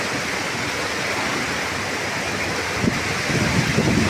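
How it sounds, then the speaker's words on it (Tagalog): A powerful super typhoon wind roars steadily as a dense, unbroken rush bending coconut trees, with stronger gusts surging near the end. "pinipilit niya kung patumbahin yung nyug sa lakas ng hangin"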